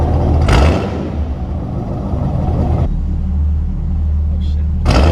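Manual Chevrolet Camaro with an LS3 engine climbing a hill, a steady close, low rumble of engine and road noise, with people talking over it.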